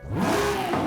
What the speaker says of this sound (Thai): เสียงท่อเดิมกับเครื่อง RB